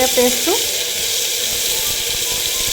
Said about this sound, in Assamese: এতিয়া মিঠাতেলখিনি গৰম হৈ গ'ল মই এতিয়া দিছোঁ অকণমান আদা ৰচুনৰ